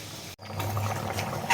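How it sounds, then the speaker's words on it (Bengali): Water runs and splashes close by as a spice-coated spatula is rinsed into a pot of cooking mutton curry, a short steady pour that briefly cuts out and then resumes. "এবারে জল দিয়ে দেবো খুন্দিটা ধুয়ে নিচ্ছি মশলাগুলো লেগে আছে"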